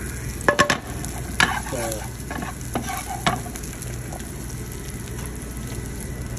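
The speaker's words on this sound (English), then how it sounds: "You cook until you smell the garlic and smell the chili" Garlic and Thai chili frying in oil over medium heat, a constant close hiss of sizzling broken early by a few clattering stirs of the utensil in the pan, with one brief spoken word at the start.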